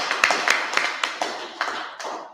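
A small live audience at a street-preaching event in Leicester claps, a short burst of separate, fairly close hand claps in an irregular rhythm that thins out and fades.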